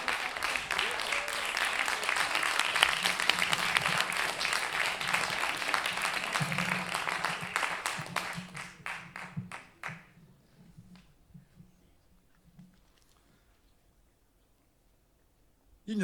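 An audience at a slam poetry tournament in Lyon gives loud, sustained applause for about eight seconds, which then fades to a few scattered claps and near silence, with brief voices in the room.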